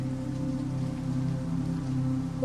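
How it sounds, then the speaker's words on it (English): Steady rain patters on a surface, soft and continuous, beneath a low, calm sustained tone with no voices. "The rain would keep falling for a while."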